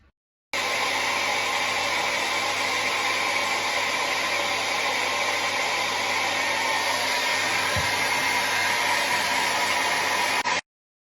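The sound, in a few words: hair dryer blowing on paint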